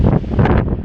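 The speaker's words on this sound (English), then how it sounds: "And it's a bit too windy." Loud gusty wind buffeting the microphone, a rough low rumble that swells and dips over a brief moment.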